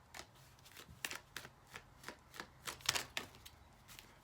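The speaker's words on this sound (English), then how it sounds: "Sorry, yeah, there's cards flying everywhere." Tarot cards are shuffled in a rapid, uneven series of crisp riffles and slaps, and some drop out of the deck. The sound is close but fairly quiet, with no voices heard.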